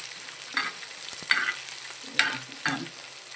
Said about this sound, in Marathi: तर आता आपण मिरची टाकून घेते मी. खूप वेळ असं परत द्यायची आपण त्याला तेलामध्ये, एकदम मंद आचेवर होऊ द्यायची